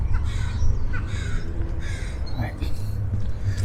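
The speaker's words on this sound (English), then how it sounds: "what's up, crows? Lots of crows." Several crows caw repeatedly overhead in the Columbia City neighborhood of Seattle, harsh calls in quick bursts over street background noise, with a person talking nearby.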